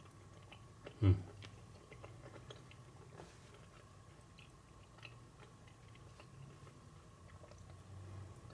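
Close, quiet chewing of a Black Madeira fig, with one distinct soft bite at the start followed by faint moist mastication under light background noise.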